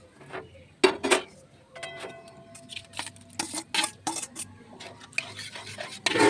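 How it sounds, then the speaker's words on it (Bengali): Salt and turmeric get stirred into about two cups of cold water in a pot for an eggplant curry, heard as close scraping and rubbing of a spoon with clinks against the metal, in short irregular bursts. "ভালো করে মিক্স করে নেব যাতে নুন হলুদটা মিক্স হয়ে যায়।"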